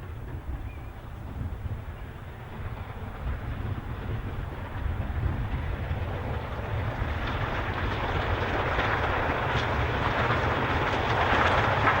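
A long train hauled by a Class 4 and a Black 5 steam locomotive runs on the steeply graded Settle and Carlisle line, a steady low rumble that grows gradually louder as it nears.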